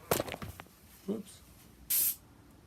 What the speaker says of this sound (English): Stop spraying.